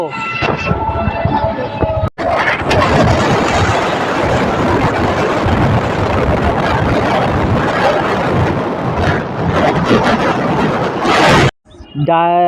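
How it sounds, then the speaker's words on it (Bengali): A train bound for Sealdah roars past a railway level-crossing gate, a loud, dense, sustained rumble lasting most of the time, with a voice speaking just before it arrives and again as it fades. "একটা ট্রেন যাচ্ছে এটা শিয়ালদা যাবে"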